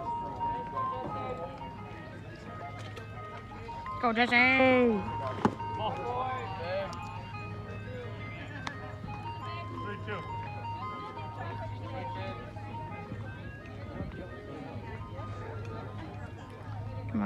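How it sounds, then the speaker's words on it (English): An ice cream truck's jingle chimes out on a neighborhood walk, faint and distant under people talking and cheering nearby. "I think it's an ice cream truck."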